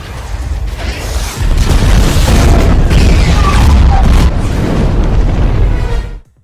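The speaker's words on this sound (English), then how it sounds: "The missiles fall from the sky, blowing up the Avengers headquarters." Missiles fall and blow up the Avengers headquarters in a loud, sustained rumbling barrage of booming explosions and debris, deep and continuous before cutting off abruptly.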